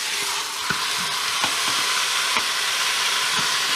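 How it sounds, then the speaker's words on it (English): Beef sears in a Cosori pressure cooker, a steady close sizzle and hiss with a few soft stirring knocks scattered through it. "now we're going to cook the meat until it's browned evenly on all sides"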